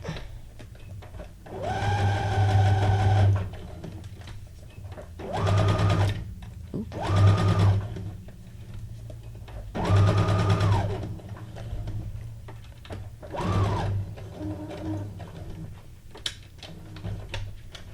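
A sewing machine stitches paper junk journal paperclips in several bursts of rapid mechanical whirring, each lasting a second or two, separated by quieter pauses with a low background hum.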